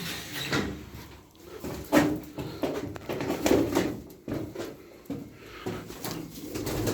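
Pigeons coo softly and repeatedly against a busy outdoor background, with occasional rustling and thumps.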